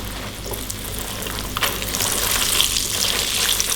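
Mini cireng, small fried tapioca snacks, crackle and sizzle steadily in hot oil as they brown, a dense continuous hiss close by with a few sharper pops and no talking.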